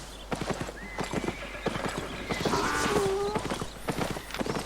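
In a video game, a horse or mule neighs with a high whinny while hooves clip-clop in a quick, steady rhythm close by.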